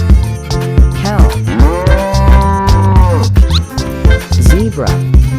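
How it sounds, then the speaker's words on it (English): A cartoon cow moos with a long, wavering, pitch-bending call over busy background music, the lowing clear and loud for several seconds. "Cow."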